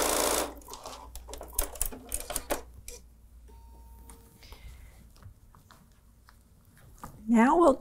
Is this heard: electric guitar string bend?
no